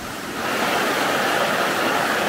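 A waterfall on an alpine route toward the Silvretta pass rushes in a dense, steady roar, fairly loud and constant, swelling slightly after the first half second.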